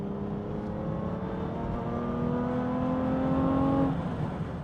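Aston Martin V12 Vantage engine pulling hard under acceleration, a steady loud roar with rising tones that climb through the run, then cut off near the end, heard alone without voices.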